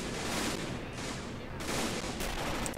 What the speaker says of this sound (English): Let's have some fun with the AT gun.